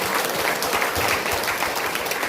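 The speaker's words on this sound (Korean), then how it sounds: "박수 한번 주십시오." Applause from the live audience of a Korean political talk show, a loud, dense and continuous clapping crowd filling the whole stretch with no talk over it.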